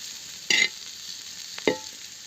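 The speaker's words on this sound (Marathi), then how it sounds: "हे बघा मस्त अशी फ्राय करून घ्यायची भाजी" Mohata bhaji, a vegetable dish, frying in a pan, a steady soft sizzle with two short louder scraping stirs, one early and one near the end.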